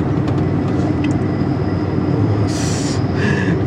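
An Amtrak California Zephyr train rumbles past up close in mountains near Red Canyon, with steady heavy wheel noise, a high metallic squeal rising briefly near the end.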